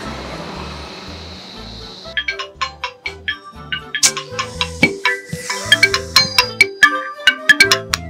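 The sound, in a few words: mobile phone ringing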